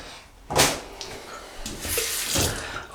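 Hands are rinsed under a running tap during a double-edge razor wet shave, with a few separate bursts of splashing water that rise and fall over a few seconds.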